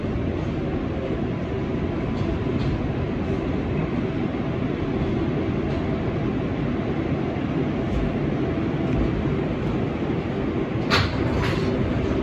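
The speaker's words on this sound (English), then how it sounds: "This is a Manhattan-bound 7 Express train." An R188 Manhattan-bound 7 Express subway train on the IRT Flushing Line rumbles steadily with a loud, continuous roar of wheels and motors, with a few sharp metallic clanks near the end.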